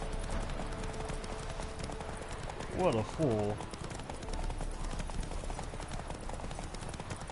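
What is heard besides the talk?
horse galloping on racetrack in The Witcher video game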